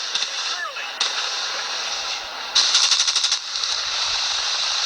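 Bursts of rapid automatic gunfire rattle loudly, with long sustained volleys and a denser, faster burst midway, close and harsh with no voice over them.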